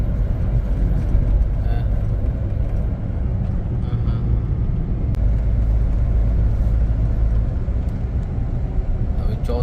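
A Maruti WagonR with a blinking check engine light drives along, its engine giving a steady, low rumble with road noise throughout while people talk over it.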